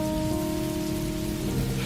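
Steady rain falling while driving, a dense continuous patter of drops on the car with a low rumble underneath, loud and unbroken throughout, no voices.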